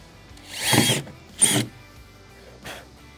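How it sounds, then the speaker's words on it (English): A power drill whirs in two short bursts close by, then a fainter third burst after a pause. "That's where I need a drill."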